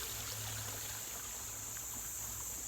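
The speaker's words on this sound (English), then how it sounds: "This is a babbling brook, and this brook or creek or stream, whatever you call it, is gently flowing downriver." A babbling brook flowing gently, a steady soft wash of water with a faint low rumble running underneath throughout.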